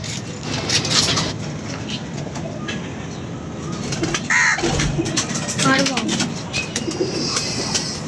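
Pigeons flap and call near a railway while several people talk loudly over a busy outdoor background with bursts of noise.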